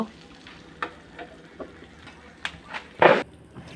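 Egg sizzles as it is stir-fried in oil in a pan, with a quiet steady fry and several sharp scraping, spattering bursts from stirring, one louder near the end.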